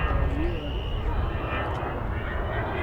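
An Avro Vulcan jet bomber roars at the Scottish Airshow, a dense, loud, rumbling jet-engine drone that fills the air steadily with crowd noise mixed in.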